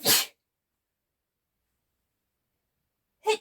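Two close, sharp human sneezes, one at the very start and one at the very end, separated by about three seconds of silence.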